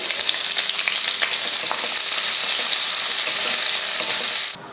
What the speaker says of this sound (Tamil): அதே எண்ணெயில் மூணு பட்டை மூணு ஏலக்காய் மூணு கிராம்பு ஒரு அன்னாச்சிப்பூ ஒரு பிரிஞ்சி இலை நல்லா வதக்கினதும் ரெண்டு பெரிய வெங்காயம்